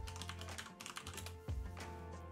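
Rapid clicking keystrokes on a computer keyboard as a chat command is typed for a Twitch stream bot, close and steady with a few louder taps, no voices.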